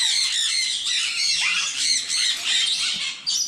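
Loud, harsh squawking of a red factor sun conure, continuous shrill calls repeating rapidly for several seconds, close to the listener with no talking.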